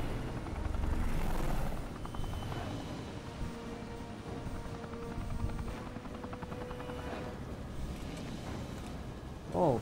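Helicopter rotor thumping steadily through a Gears of War game scene, loud and sustained with engine drone, some in-game effects and a sharp burst near the end.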